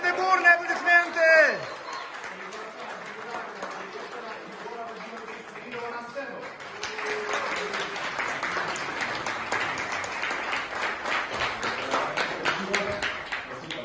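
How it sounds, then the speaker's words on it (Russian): Enthusiastic audience applause at a tender announcement for a construction project, starting after a brief spoken outburst and then holding as a steady, dense wash of clapping until the end. "Аплодисменты, бурные аплодисменты!"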